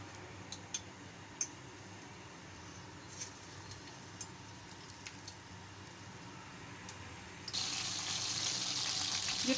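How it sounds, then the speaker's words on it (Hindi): Marinated chicken fries in hot oil in a kadai, a steady low sizzling hiss with light ticks and pops that suddenly grows louder and fuller partway through. "कढ़ाई के अंदर मैंने ऑयल डाल दिया है और इसमें अब मैं ये जो मैरिनेट की हुई चिकन है इसको फ्राई करूँगी।"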